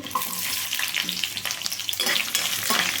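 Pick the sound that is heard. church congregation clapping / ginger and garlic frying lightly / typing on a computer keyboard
ginger and garlic frying lightly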